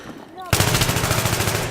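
Rapid automatic gunfire in the video game Battlefield 3 breaks out after a brief quiet moment, a loud, close, evenly pulsing burst of shots that runs continuously to the end.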